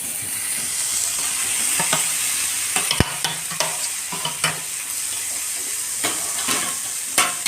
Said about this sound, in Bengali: প্রথমে আমি কড়াইয়ের মধ্যে খোয়াটা দেবো